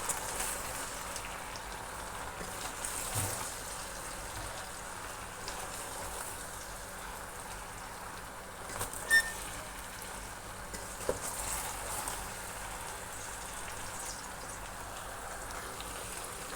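Ridge gourd and potato sizzling steadily in a pan, a soft constant frying hiss with occasional light scrapes and clicks of stirring, fairly quiet and with no talking.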